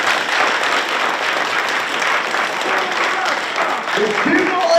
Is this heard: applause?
yes